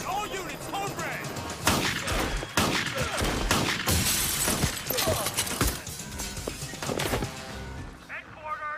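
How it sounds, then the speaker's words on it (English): Heavy gunfire in a film shoot-out around a cabin, with dense bursts of shots and the crash of shattering glass, loud and continuous throughout over a busy action soundtrack. "I'm under heavy gunfire from around the cabin."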